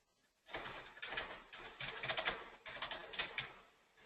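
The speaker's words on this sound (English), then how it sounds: "I can still hear somebody's typing" Rapid keyboard typing clatters nonstop during an online meeting, a dense run of close, sharp key taps with brief pauses, following a moment of near silence at the start.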